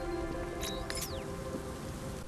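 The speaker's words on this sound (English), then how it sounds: "So how come it's raining over here, but not over here?" Steady rain patters throughout in the Batman Arkham Knight video game, with a couple of faint high electronic chirps and a sweeping tone on top.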